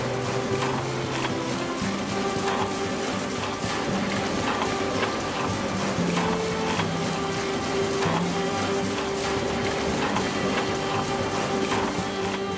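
Historic stone grist mill grinding whole wheat flour, a continuous clattering, ratcheting mechanical rumble of turning gears and stones with irregular knocks, steady and close, without speech.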